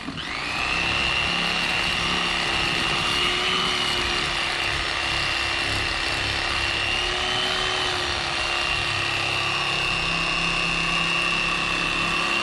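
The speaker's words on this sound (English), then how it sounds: "I start turning the knife, and then I just run it right down the bone." An electric fillet knife whirs steadily as it cuts a walleye fillet down along the spine bone, a loud, continuous motor drone with a high steady whine that never pauses.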